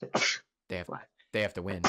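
A person sneezes once, a short sharp burst near the mic, with conversational talk before and after it.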